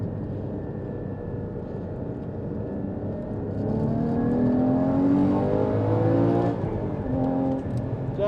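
A Porsche Cayman 981 GT4 sports car lapping a race track, its engine a loud, continuous drone that swells and climbs in pitch as it accelerates through the gears, heard from on board with no talk.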